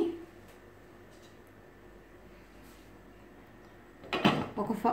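A lid is set onto a pot of sambar rice cooking with water, giving a short clatter of metal near the end, heard close and moderately loud over a quiet kitchen background.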